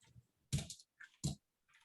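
Faint, quiet keystrokes on a computer keyboard during a coding session, coming in a few separate bursts with short pauses between them.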